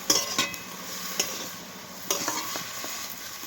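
Salted bethua greens frying in a wok-style pan while being stirred: a few scraping stir strokes over a soft continuous sizzle, close up, with no voices.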